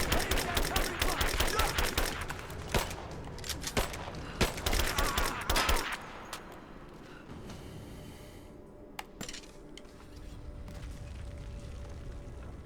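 Gunfire and a grenade blast in the Rise of the Tomb Raider game: rapid bursts of automatic fire and booming impacts for about six seconds, then quieter scattered shots and faint combat noise.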